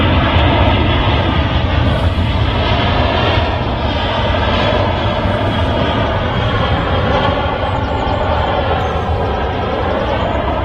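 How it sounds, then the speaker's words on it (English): An EasyJet Airbus A319 jet rolling along the runway at Manchester Airport, producing a loud, close, steady engine roar that holds throughout with a broad rushing hiss. "A319 Bilbao flight."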